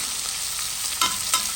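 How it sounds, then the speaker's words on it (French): Onions sizzle gently in a pot as they soften, a steady close hiss with a couple of brief spoon clinks near the end. "Je laisse les oignons bien fondre dedans."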